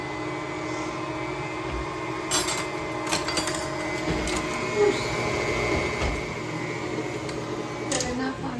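An electric stand mixer whirs steadily as it blends flour and other dry ingredients, with a constant mechanical drone, a few brief clanks and knocks, and no talking.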